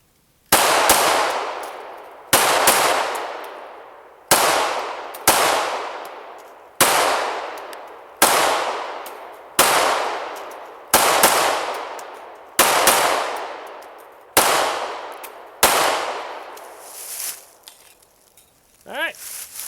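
Smith & Wesson Sigma 9VE 9mm pistol fired at an indoor range: about ten loud, sharp shots at a steady pace, each ringing out with a long echoing decay, then quieter clatter at the end.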